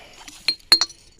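Old glass jars dug from a dump clink against each other in a few sharp, bright taps, with two close strikes near the end, and no talking.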